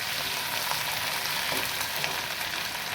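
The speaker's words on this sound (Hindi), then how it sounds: "पाँच से 7 मिनट इसको अच्छी तरह से तेज़ आंच में भून लेंगे" Chicken pieces sizzle and fry steadily over high heat for bhuna chicken, a dense, continuous crackle with a few brief stirring scrapes, close and loud with no talking.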